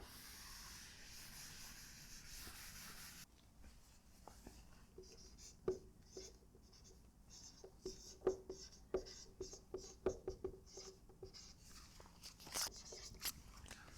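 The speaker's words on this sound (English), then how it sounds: "And let's write it down." Chalk or pen writing during a university lecture on Laplace transforms, quiet scratchy strokes and taps in an irregular rhythm following a soft stretch of room noise, with no talking.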